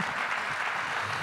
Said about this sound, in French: vous êtes libre d'applaudir.